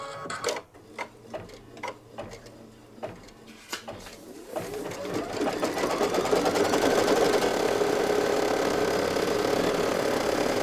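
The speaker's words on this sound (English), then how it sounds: "I have put the button down to lock the hoop into the arm of the embroidery machine, and we are ready to go" Embroidery machine stitching a towel topper design after the hoop is locked into its arm: a few separate clicks and thumps, then the motor starts and settles into a steady, fast, rhythmic stitching hum that grows louder.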